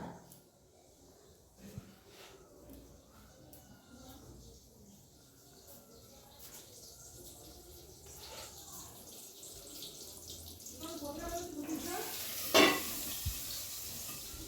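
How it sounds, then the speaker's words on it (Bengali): Water is poured into a pot of egg and cauliflower curry with fried potatoes, a soft running trickle building gradually under a faint sizzle, with a brief louder splash near the end. "দিয়ে দিলাম জল পরিমাণ মতো"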